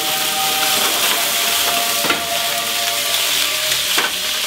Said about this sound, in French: Le bœuf, le voilà, la pince aussi, et on fait cuire.